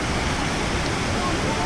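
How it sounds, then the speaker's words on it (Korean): Eongtto Waterfall on Jeju Island roars after heavy rain, a loud, unbroken rush of falling water filling the scene from close by. "여긴 엉떡폭포입니다"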